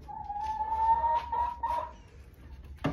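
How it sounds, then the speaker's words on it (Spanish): French breed rooster with red hens, a drawn-out nasal clucking call followed by a few short clucks close by, ending with a sharp knock. "tengo al gallo de raza francés y pues a la gallinita color rojita"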